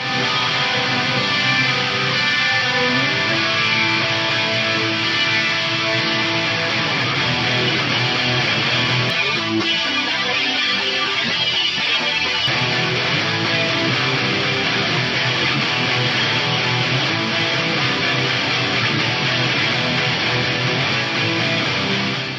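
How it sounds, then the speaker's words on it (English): Heavily distorted rhythm guitars through an Eventide Tricerachorus chorus pedal chug continuously with a dense, swirling wash, loud and unbroken, with a brief thinning midway through. "I use that first Schmozone preset on the dirty rhythm guitars, which sound like this."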